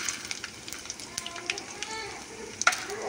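Mustard seeds, urad dal, cumin, coriander seeds and two dried red chillies frying in hot oil for a rasam tempering give a faint, steady sizzle with scattered sharp crackles and pops.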